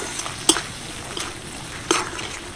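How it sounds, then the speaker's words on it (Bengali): Mango pieces are stirred into spiced taro-leaf masala frying in oil, a low sizzle with a few sharp spoon-on-pan clinks standing out. "সেই আম 3টে দিয়ে দিচ্ছি, ভালো করে নাড়াচাড়া করে নেব"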